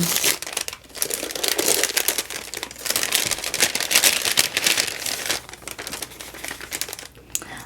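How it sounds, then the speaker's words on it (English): A gift bag from a 2024 Pink and Main stamp-set advent calendar is ripped open up close, giving loud, continuous crinkling and tearing of paper and plastic with a few short pauses. "here we've got bag number 2. I am ready to rip it open."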